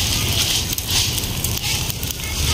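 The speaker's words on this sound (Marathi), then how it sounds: "पोपटी की आग अभी लग चुकी है." An outdoor fire is lit for cooking popti, and it gives a continuous crackling roar with small pops throughout, close and fairly loud with no talk.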